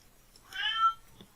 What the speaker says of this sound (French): Désolé pour le chat.